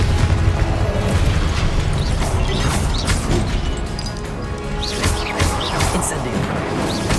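Confringo spell blasts in Hogwarts Legacy combat, loud dense booms and crashing impacts rolling continuously with brief whooshing bursts layered over a heavy, busy game soundscape.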